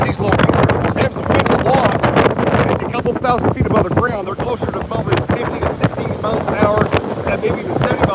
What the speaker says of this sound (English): the wind started gusting to 50, 55 as soon as these little rain surges